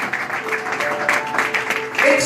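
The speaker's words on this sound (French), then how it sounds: "acclamez très fort pour le Seigneur" A church congregation applauds and cheers loudly for the Lord, with broadband clapping mixed with voices and shouts throughout the short burst.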